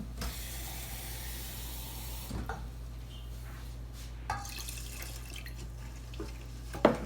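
A kitchen faucet runs with a steady low hiss of water filling a container, with a few soft clunks and a sharp clink near the end.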